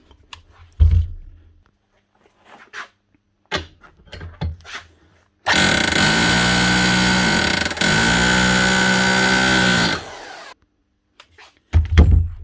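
A repaired cheap rotary hammer drill runs in a workshop in one loud, steady burst of about five seconds with a hard rattling hammer action, after scattered knocks and handling thuds, then more clunks.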